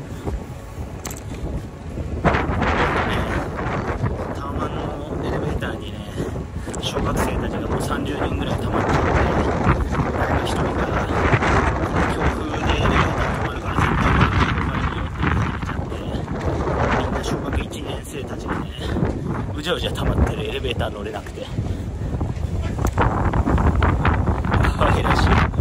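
A strong windstorm in Chiba roars and buffets the microphone with continuous low rumbling gusts. Speech is also likely present.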